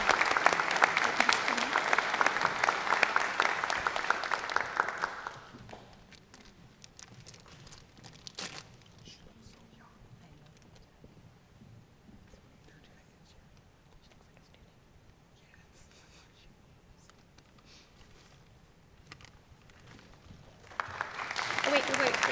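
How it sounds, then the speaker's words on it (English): A school board meeting audience applauds students for their achievements, a loud burst of clapping that stops after about five seconds. Quiet room tone and faint voices follow, then the clapping swells again near the end. "Let's give them a big round of applause for all their hard work and achievements"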